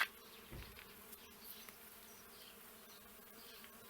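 Bees buzz faintly and continuously around a blooming grapevine in a yard beside a house, a low, steady drone with a few brief knocks.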